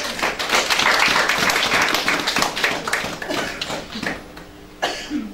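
A congregation claps to acclaim the Lord. Brisk, dense clapping fills the opening seconds, then thins to scattered claps and a stray cough before the room settles.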